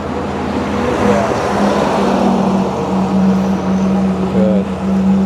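Cars and trucks roll past on a town street in a steady, loud wash of road noise, engines and tyre rumble swelling as heavier vehicles go by close at hand.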